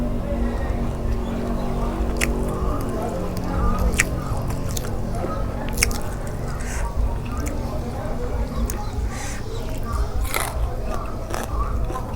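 Biting and chewing on a spicy, sour raw koi dish, Thai-style fish salad, with repeated crisp crunches spread through the clip over a steady, noisy background.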